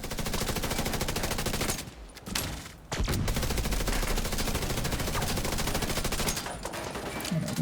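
Video game gunfire: sustained rapid automatic fire roars almost without pause, broken by one short lull near the middle before the loud stream of shots resumes and runs to the end.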